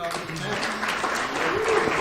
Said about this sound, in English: Hey, round of applause for these.